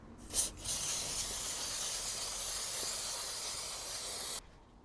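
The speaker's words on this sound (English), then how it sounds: "Chain cleaner." Chain cleaner sprays in one long continuous hiss onto the chain of a 2002 Suzuki GSXR750 K2 motorcycle, starting with a couple of short bursts and holding steady before cutting off sharply, close and fairly quiet.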